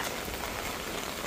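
Steady rain falls in an outdoor setting, a soft continuous patter and hiss of drops on surfaces, fairly faint and even throughout with no voices.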